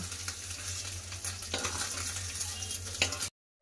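Fried steamed-egg pieces being lifted from hot oil, a steady soft sizzle under light scraping and a few sharp metal clinks of utensil against pan, close by.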